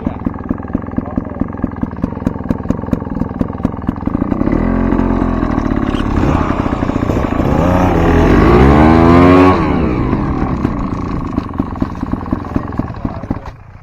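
A motorcycle engine revs up in a pit area, rising to a loud, strained peak in the middle before settling back, with steady idle pulses at either end and a voice speaking over it.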